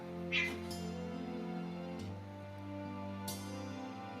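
Stray cats kept indoors in a room of older cats let out one short, clear meow near the start, followed by faint quieter cries over a steady tonal hum.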